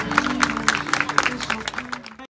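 Scattered clapping from a quinceañera party audience, uneven claps over a low musical hum, moderately distant and fading out abruptly at the end.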